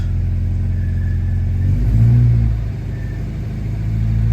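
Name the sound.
1973 Alfa Romeo GTV engine idling after cold start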